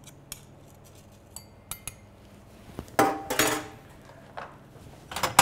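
Sugar and bitters muddled in a glass for an Old Fashioned cocktail, sparse clinks and taps at first, then a louder cluster of scraping, grinding knocks of a muddler against glass, close and without voices.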